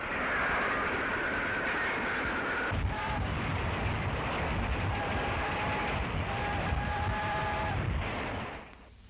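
A train rolling along the rails in a 1938 crime film, a steady loud rumble with faint rhythmic clatter and occasional whistle-like tones, running continuously before dropping away at the end.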